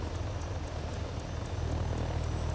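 A helicopter hovering in a helicopter video game, its rotor giving a steady dense thrum with a rhythmic blade chop at regular intervals, constant and close.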